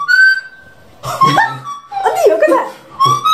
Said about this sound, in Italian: Ma perché fischi?